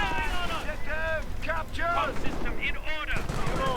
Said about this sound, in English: they are coming under severe and heavy machine gun fire